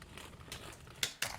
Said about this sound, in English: me like digging through this plastic bag or whatever I'm doing here